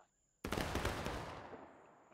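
A line of soldiers fires a musket volley in the War of Rights video game, a single loud, close, ragged crackling blast of overlapping shots that rolls and fades over about a second and a half.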